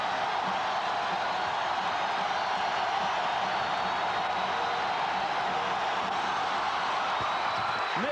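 A steady, dense crowd roar fills a basketball arena at Hilton Coliseum, a broad continuous wash of noise with no breaks, heard throughout.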